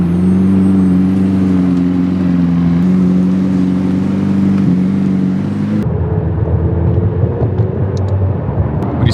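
McLaren sports car pulling away on a New York City street, its engine droning steadily and close before the note shifts as it moves off, with road noise rising in the final seconds.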